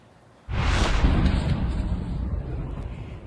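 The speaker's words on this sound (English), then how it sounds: "New video today of an explosion in central Ukraine after a Russian missile struck a hotel" An explosion after a Russian missile strike on a hotel in central Ukraine bursts in suddenly and loudly, then rolls on as a long, fading rumble with distant debris noise.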